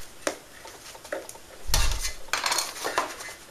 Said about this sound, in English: And in goes the loaf.